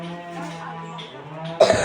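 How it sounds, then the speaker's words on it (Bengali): A single short, sharp cough from a person bursts out near the end, after a stretch of soft voiced sound. "কাশি হয়ে গেছে"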